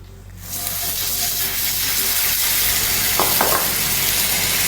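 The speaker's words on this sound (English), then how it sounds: "After the sugar has dissolved, we're going to add 1 tablespoon of butter." Butter sizzling as it melts into hot caramel cooking over low heat, a steady broadband hiss rising after a quiet start and holding loud and even, with a couple of brief bright crackles near the end.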